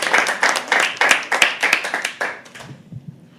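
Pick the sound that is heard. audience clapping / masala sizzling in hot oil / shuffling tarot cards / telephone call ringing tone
audience clapping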